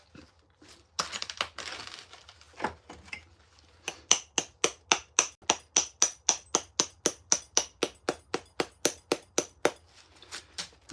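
Stone strikes stone in flintknapping while one edge of a piece is trimmed. A few scattered taps give way to a long, steady run of sharp, evenly spaced clicks, close and alone.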